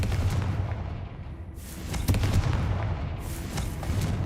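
Repeated fire-spell blasts cast in Hogwarts Legacy, a sharp burst near the two-second mark followed by rumbling explosive bangs over a steady low game background.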